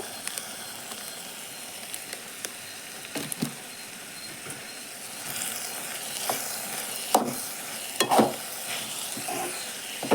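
Spoon scraping and stirring turmeric and coriander powders into food frying in a pan, a steady sizzle with occasional louder scrapes and clinks of the utensil, close and moderately loud.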